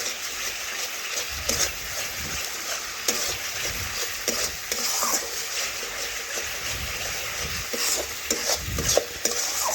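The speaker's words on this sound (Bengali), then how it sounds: "এখন ভালোভাবে মশলা আবারও নাড়াচাড়া করে লবণটা মিশিয়ে নিচ্ছি" Chicken masala being stirred in a pan to mix in salt, with a steady broadband sizzle and intermittent scraping strokes of the spoon, close and moderately loud, no talk.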